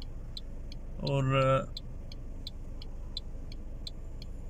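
Cars idle at a traffic signal in Yanbu, Saudi Arabia, with a low steady engine hum, regular faint ticking throughout and a brief louder tonal burst near one second, heard from inside a stopped vehicle.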